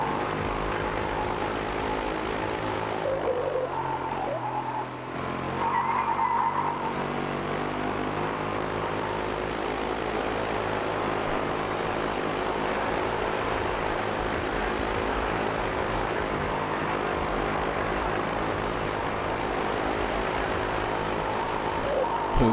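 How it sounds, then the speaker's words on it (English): Racing car engines from the Project Cars 3 video game, heard from a spectator viewpoint, drone steadily and loudly with layered harmonic whine throughout, briefly dipping near the five-second mark before holding a continuous roar. "Freaking engine sounds are messed up in spectator view."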